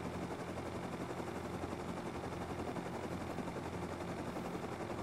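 Machine gun fire with heavy recoil in a video game: a steady, unbroken stream of rapid shots held at an even, moderate level for several seconds.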